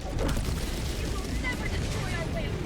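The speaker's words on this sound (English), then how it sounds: "Strafing run." Explosions from an Eagle strafing run in the Helldivers 2 video game rumble and boom in a dense, continuous barrage, while a voice talks over the noise.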